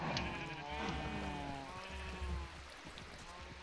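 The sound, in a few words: sheep bleating in a video game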